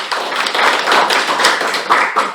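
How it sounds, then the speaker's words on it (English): Audience applause for three evaluators at a joint Toastmasters club meeting, a steady burst of dense clapping from a room of people, loud and close with no talk over it. "let's give a huge round of applause to our 3 evaluators once again"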